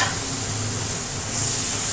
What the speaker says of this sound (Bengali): এবার একটু মশলা কষানোর জন্য জল দিয়ে দিচ্ছি